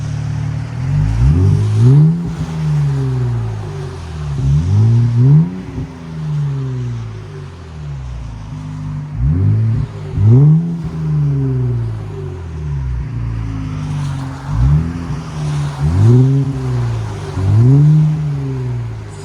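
A 2024 Nissan Z with a 3.0L twin-turbo V6 and AWE Track cat-back exhaust revs repeatedly, each deep, loud rev rising and falling in short bursts across the clip.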